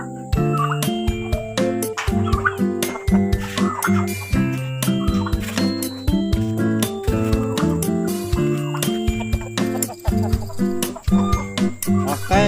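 A crowded poultry farm shed where birds are quarantined for a respiratory illness, with dense overlapping clucking and fowl calls filling the air continuously at a steady moderate loudness.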